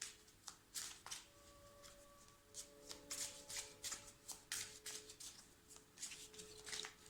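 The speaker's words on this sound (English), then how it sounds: "I'm shuffling live so you guys can see the magic as it happens." Someone shuffling a deck of oracle cards by hand, with repeated quick riffling bursts in an uneven rhythm, close and soft in a quiet room.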